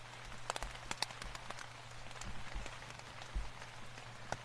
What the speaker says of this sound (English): A little rain right now.